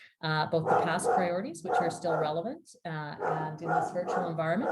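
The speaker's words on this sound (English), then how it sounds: "you can hear my dog in the background there" A dog barks and yips faintly in the background at home while someone speaks continuously over it in the foreground.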